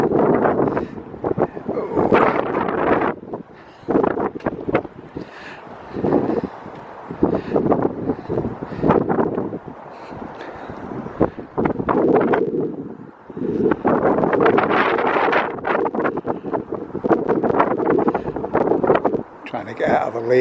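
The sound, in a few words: wind blowing on the microphone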